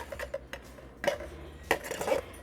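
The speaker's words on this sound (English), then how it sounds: "we're going to keep stirring it until we get it completely combined" Pumpkin muffin batter being stirred in a bowl, with soft utensil scrapes and a few brief clinks, close and quiet.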